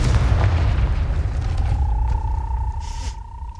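A Confringo fire spell explodes in Hogwarts Legacy, a deep booming blast with a low rumble that rolls on and slowly fades, ending in a faint tonal whistle.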